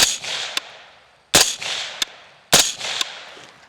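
A suppressed AR rifle in regular mode fires into a dirt berm outdoors, three sharp cracks spaced about a second apart, each followed by a short metallic action clack and a fading echo.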